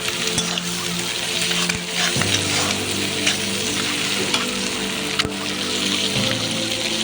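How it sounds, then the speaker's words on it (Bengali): Ginger-garlic paste sautéing in a pan for a pumpkin and egg dish, a loud, near, steady sizzle broken by repeated scraping and stirring strokes; no one talks. "খুব ভালোভাবে কষিয়ে নেব যতক্ষণ না পর্যন্ত এই আদা রসুনের কাঁচা গন্ধ কেটে যাচ্ছে।"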